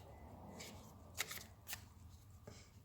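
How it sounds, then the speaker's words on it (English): Oracle cards shuffled by hand during a card reading, a soft papery riffle with several brisk flicking bursts over a low background hiss, no speech. "let me pull some additional cards here"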